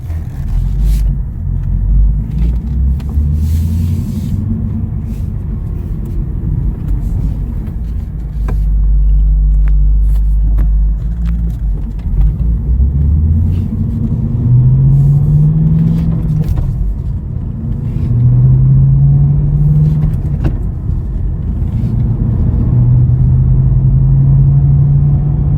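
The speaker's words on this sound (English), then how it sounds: "We're going to go ahead and take it for a test drive in a moment." A supercharged 2011 Cadillac CTS-V Coupe on a test drive: a steady, loud engine drone whose pitch climbs in repeated sweeps as it accelerates through the gears, with a deep road rumble underneath and no talking.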